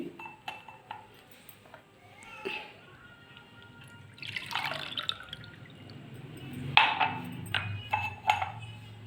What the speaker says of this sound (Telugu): సో దీన్ని మూత తీసి నేను ఫిల్టర్ చేసుకుంటానండి